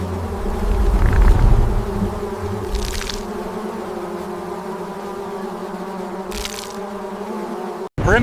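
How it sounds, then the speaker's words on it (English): Loud buzzing of a swarm of giant bees in an animated fantasy battle scene, a steady drone with swells as the insects pass close, continuing alone without speech. "What's that sound? Bees."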